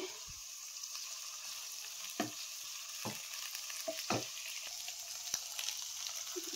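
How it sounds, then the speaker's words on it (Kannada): Chicken and green chilli frying in a pan over a medium flame, a steady sizzle with a few distinct scrapes and stirring knocks spaced through it, close and fairly quiet, with no talk. "ಇದನ್ನು ಮೀಡಿಯಮ್ ಫ್ಲೇಮಲ್ಲಿ ಇಟ್ಕೊಂಡು ನಾವು ಫ್ರೈ ಮಾಡ್ಕೊಬೇಕಾಗತ್ತೆ."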